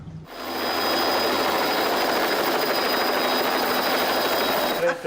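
A helicopter roars steadily and loudly at close range, its broadband rotor and engine noise holding constant from start to finish.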